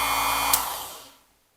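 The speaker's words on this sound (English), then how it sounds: "The Speedex 9120 RM is a real solid and reliable key cutting machine." Speedex 9120RM key cutting machine motor, with a cutter spinning at about 3,500 RPM, whirring steadily up close, then switching off with a click and winding down to silence.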